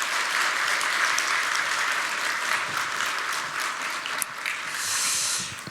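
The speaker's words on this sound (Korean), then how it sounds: "우리 다시 한번 모든 수료생들을 향해서 힘찬 축하의 박수 부탁드립니다." A church congregation applauds the graduates at a faith-training completion ceremony, thick steady clapping throughout that eases slightly near the end, with a faint hiss above it.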